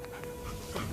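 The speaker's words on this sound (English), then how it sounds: "Not a wolf, that's a dog." A hurt, limping dog panting in quick breathy puffs with a thin whimpering whine running through, close and soft, about one second long.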